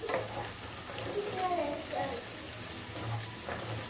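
Vegetables, including raw green peas, fry in a pan for a methi rice dish, giving a soft, steady sizzle with some stirring, while a voice talks faintly over it.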